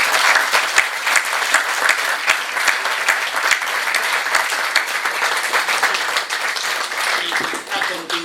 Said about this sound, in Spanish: yo creo que le damos otro aplauso y levantamos la sesión